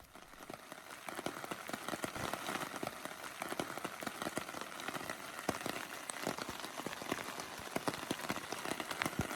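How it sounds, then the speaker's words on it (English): Rain falls on a hiking trail in Colorado, heard as quiet, irregular patters and drips hitting a surface, with a soft wash of steady rain beneath them. "It's just rain, rain, rain."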